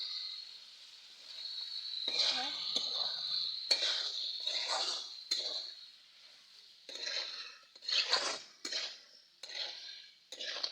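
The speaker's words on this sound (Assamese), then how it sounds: "এতিয়া অলপ ভালকৈ ভাজিব লাগিব মাংসটো" Chicken pieces fry with salt and turmeric in a pan, a bright steady sizzle overlaid by bursts of spatula scraping and stirring against the metal, close up and moderately quiet, without any voices.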